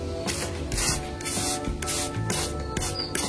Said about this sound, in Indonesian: Semprotkan air jika dedaunan terlihat agak layu.